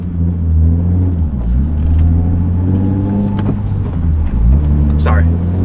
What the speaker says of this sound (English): So I put the clutch in and it had a rev hang there